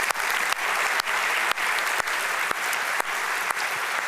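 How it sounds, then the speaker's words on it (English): Sponsors at the opening of a makeathon event receive applause from the audience, an even, sustained roar of many hands clapping with a regular soft pulsing and little speech. "Let's give them applause as well."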